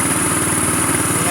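Small gas-powered engine on an air compressor running steady and loud close by, a continuous throbbing drone with no clear rise in pitch.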